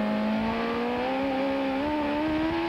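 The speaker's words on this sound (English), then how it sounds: "Let's listen to Michael play with the throttle." A CART race car at Laguna Seca in 1995, its engine note climbing steadily as the throttle is worked, a loud close tonal whine rising in pitch without talk.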